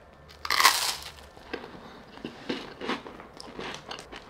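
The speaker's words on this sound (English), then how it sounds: "taste test, first bite." A crispy chocolate raspberry wafer is bitten with one loud, close crunch, then a series of softer crunching chews follows in an irregular rhythm.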